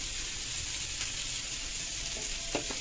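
Tomato, capsicum, green chili and garlic fry in a pan with an even, fairly quiet sizzling hiss throughout, plus a couple of faint soft clicks toward the end.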